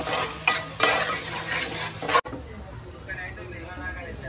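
Chicken being stirred in a frying pan with onion and garlic paste, sizzling steadily with repeated scraping strokes of the utensil against the pan, close and fairly loud, then quieter frying after a sharp knock.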